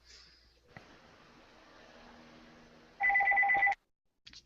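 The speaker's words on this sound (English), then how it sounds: "the phone's ringing" A telephone gives a loud two-tone electronic ring lasting under a second, following a stretch of soft murmuring background, with a brief faint click afterward.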